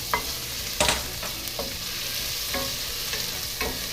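Garlic frying in olive oil and a little butter, a continuous bright sizzle broken by several sharp clicks and scrapes of a utensil against the pan, with no voices.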